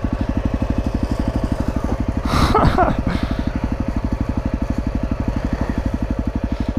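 A dirt bike throbs steadily on loose ground at Rut City Trail, its engine pulsing evenly and close by. Midway a short gritty burst of noise rises over the engine as the rear wheel spins and throws dirt.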